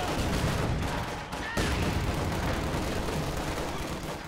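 Dense, loud gunfire and explosions from a Company of Heroes 2 battle keep up almost nonstop, with a brief dip just before a sharp new burst.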